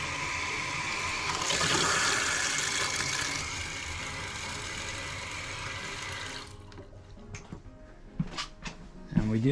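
Water rushes loudly as a toilet flushes in a Jayco Jay Flight 224 BH travel trailer, then trails off into trickling and refilling, with a few faint knocks near the end.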